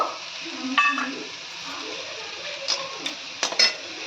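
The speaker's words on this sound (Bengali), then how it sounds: "ভেজিটেবিলগুলো সব সুন্দর করে ভাজা ভাজা হয়ে গেছে" Vegetables fry in a pan for chire poha, a steady sizzle broken by several sharp scrapes and clinks of a utensil against the pan, close and clear.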